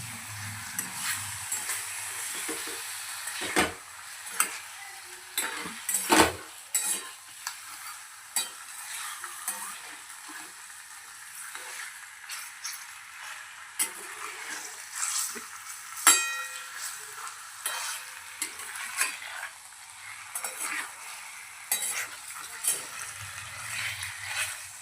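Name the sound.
sautéing Bangda fish curry masala in ginger and garlic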